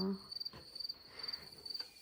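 Crickets chirping at night near a balcony, a steady high, thin trill running through the whole stretch in faint repeated pulses, quiet and slightly distant with a low background hum.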